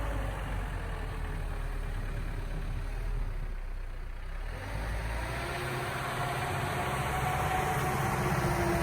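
A Mahindra Roxor off-road vehicle engine runs steadily in low range, a continuous low rumble that rises slightly toward the end, with no talking.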